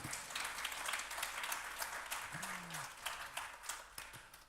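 Concert audience applauding, a dense continuous clatter of many hands clapping, fairly faint and distant, with a brief low tonal note partway through.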